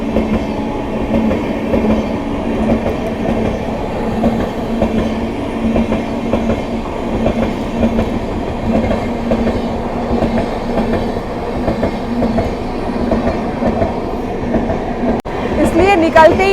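Inside the Vaishali Express, an Indian passenger train pulling out in winter, a loud continuous rolling rumble and hum of the carriage carries on steadily, with a brief clatter near the end.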